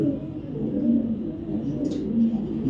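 Racing pigeons from a loft coo in a low, continuous, rolling murmur, close by and unbroken for the whole stretch, with no one talking over them.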